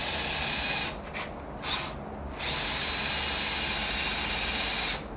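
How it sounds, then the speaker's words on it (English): A power drill runs at high speed in reverse on a screw in short bursts, stopping briefly twice before a longer continuous whir; no talking. "You put your drill on the high speed,"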